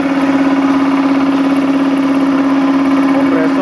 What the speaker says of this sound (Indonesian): Kompresor masih berfungsi dengan baik ya. RPM-nya masih stabil.